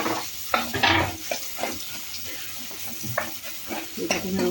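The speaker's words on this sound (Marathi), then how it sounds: "हे टाकून व्यवस्थित परतवून घ्यायचं." Chopped onion sautéing for usal: a steady close sizzle in a hot pan, broken by repeated scraping stirs of a spoon against the metal and occasional clinks.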